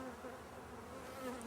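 Honey bees from a crowded, diseased hive make a steady, dense buzzing hum that holds unbroken throughout, close and moderately loud, with no voices.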